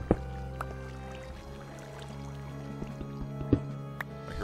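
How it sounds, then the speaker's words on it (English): Water flowing and dripping inside a cave in a blocky mining video game, heard as a soft, steady liquid trickle with a few louder drips and splashes standing out over a low continuous game ambience. "I hear water."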